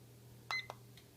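A kitchen timer gives a few short, faint electronic beeps as its buttons are pressed during setting, two quick chirps then a softer third over a quiet kitchen hum.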